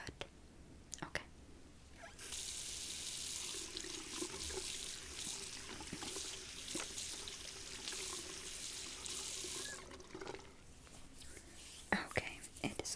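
Tap water runs steadily into a sink as hair is wetted during a relaxing ASMR hair wash, a soft continuous hiss lasting several seconds with faint whispering and scattered small clicks before and after.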